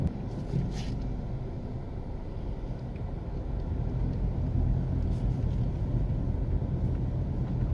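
Car driving slowly around the circular Sir William Grant Park in downtown Kingston, Jamaica, on a Sunday: a steady low road rumble and engine drone heard from inside the vehicle, continuous throughout with no talking.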